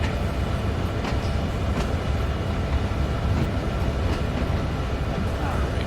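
Train cars roll through a rail yard during switching in Train Sim World 3, a steady, loud rumble of wheels on track with faint rhythmic clicks throughout and no pauses.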